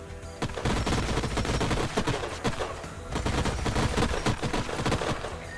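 A gunfire volley in the video game Age of Wonders: Planetfall, with loud, dense crackling bursts of rapid shots running continuously for several seconds and close.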